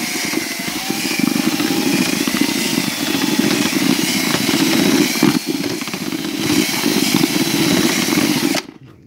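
A cordless screwdriver with a mixer attachment whirs loudly and steadily as it churns soft pigeon feed, then cuts off abruptly at the end.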